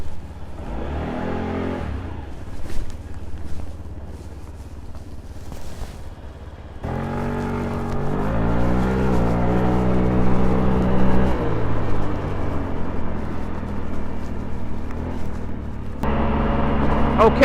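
A 49cc Honda Ruckus scooter engine idles and then revs up as the ride begins, its buzzing note rising and falling through gear changes, loud and close against wind rush.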